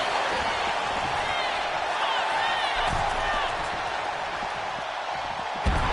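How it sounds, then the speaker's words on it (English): A wrestling crowd in the video game WWE 2K25 roars steadily throughout a tag-team match, a loud, continuous wash of arena cheering with a faint thud near the end. "Montez Ford getting the crowd riled up right now"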